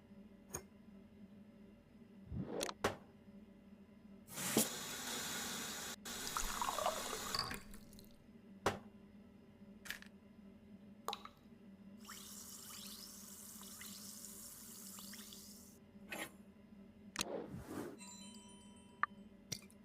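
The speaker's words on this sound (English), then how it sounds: "Now to fill it up with water and drop one of the tablets in." Water runs into a glass from a tap in a video game, a steady fizzing pour broken by a few sharp clinks and drips, followed by quieter trickling and a bubbling hiss as a tablet dissolves, all close up with no talk.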